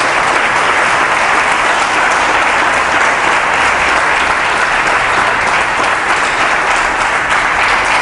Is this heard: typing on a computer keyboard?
no